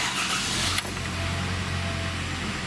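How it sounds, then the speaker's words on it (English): A 2009 Hyundai Sonata 2.4 engine cranks briefly and catches, then settles into a steady, close idle hum after a fresh alternator replacement. "Let's give her a quick start."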